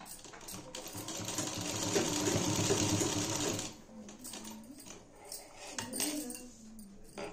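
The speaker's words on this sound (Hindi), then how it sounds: "लैस में दोनों तरफ सिलाई लगा करके अटैच करना है" A sewing machine stitches lace onto a blouse, running in a close, steady whirring burst for several seconds, then stopping and starting again in shorter runs with faint handling noises between.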